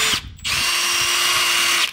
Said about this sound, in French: on a choisi de le sacrifier à la perceuse